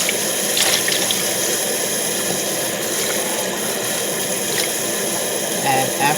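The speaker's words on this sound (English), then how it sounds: "is just rinse them off." Tap water pours into a sink as freshly cleaned items are rinsed off before boiling, a loud, continuous close-up rush and splash throughout.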